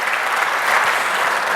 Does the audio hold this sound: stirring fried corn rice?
no